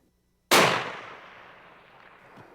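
A single rifle shot rings out at an elk during a Colorado hunt, a sharp, loud crack followed by a long, fading outdoor echo.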